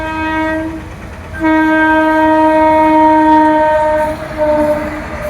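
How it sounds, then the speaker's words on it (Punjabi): A train horn blares in two long, loud blasts over the rumbling roll of a passing freight train close by. "ਟ੍ਰੇਨ ਆ ਚੁੱਕੀ ਆ ਆਹ ਦੇਖੋ ਇਹ ਮਾਲ ਗੱਡੀ ਆ"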